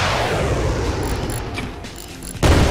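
A rocket launcher fired at a tank in the VR military game Out of Ammo, rumbling battle noise followed by a sudden heavy boom near the end.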